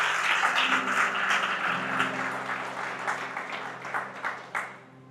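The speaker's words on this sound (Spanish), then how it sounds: "Si va a aplaudir a Jesús" A church congregation applauding Jesus during a sermon, a dense wash of many hands clapping that swells, then thins into a few scattered claps before fading out.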